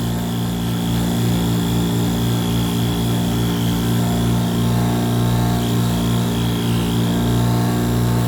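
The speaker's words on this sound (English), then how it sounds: "Buffing wheel." A buffing wheel spins against stonewashed knife scales in a knife shop, giving a loud, constant motor whine with steady rhythmic pulsing that runs unbroken for several seconds, with no talking.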